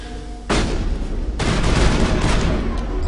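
Gunfire bursts from enemy weapons during a combat encounter in the video game Mass Effect: loud, dense volleys of blasts that kick in sharply after a brief lull and carry on without letup.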